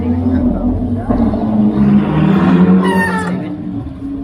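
Lamborghini and Ferrari sports cars revving on an Amsterdam street, a loud close engine roar that builds and peaks with a sharp high whine before easing, with people talking over it.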